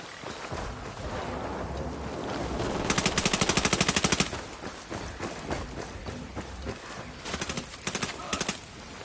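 Machine gun fire from the Ghost Recon Wildlands video game rattles in long rapid bursts, loud and close, over a busy backdrop of game combat noise.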